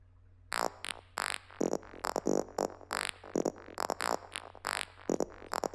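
A gritty, bit-crushed and downsampled synth lead, built from a simple squelch sound, plays short staccato notes in a bouncy pattern, with delay echoes and a light reverb tail.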